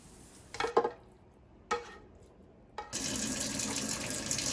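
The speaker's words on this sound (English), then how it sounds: "Rinse your beans well with a strainer to get all that goop off of them from the can." Tap water briefly splashes a few times before a steady stream pours in, rinsing canned beans in a strainer at a kitchen sink, close and moderately loud with no talking.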